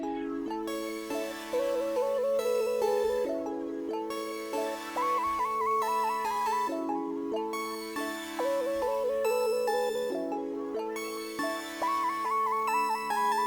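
Sliding synth lead melody played back in FL Studio for a catchy beat, bright gliding notes in repeating phrases over a steady backing, loud and without talk.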